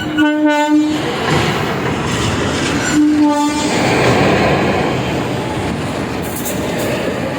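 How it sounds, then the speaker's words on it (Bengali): The Puri Salimar Dhauli Superfast Express arrives at Bhubaneswar station, sounding two loud horn blasts over a steady rumble of rolling wagons and crowded platform noise. "আমাদের ট্রেন দিয়ে দিয়েছে"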